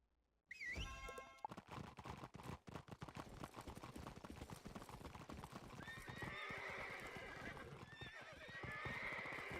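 Horses in the Wizard101 video game clip-clop in a steady, dense rhythm, with a clear neigh at the start and game effects layered over the hoofbeats.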